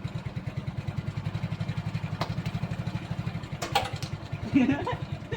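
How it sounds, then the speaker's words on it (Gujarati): Motorcycle engine running at idle close by, a steady low rhythmic putter throughout with a few brief clicks and a short rise near the end. "ચાલુ તો થઈ ગયો બાઈક અને રવિભાઈનું બાઈક"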